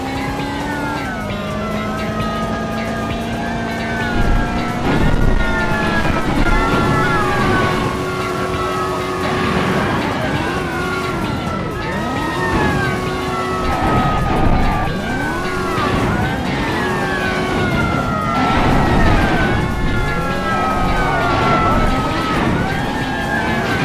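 Police sirens wail in the racing video game Test Drive 6, rising and falling in repeated sweeps over roaring car engines, while someone talks over the game sound.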